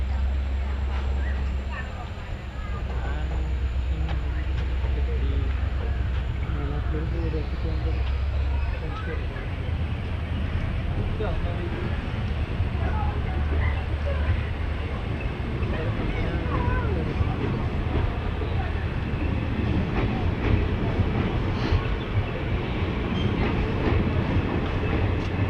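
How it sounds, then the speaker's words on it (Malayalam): A train pulls out of Melattur railway station in Kerala, a continuous close rumble of wheels and carriages rolling on the rails, with faint clatter under it. "പെട്ടെന്ന് ട്രെയിൻ എടുത്തു."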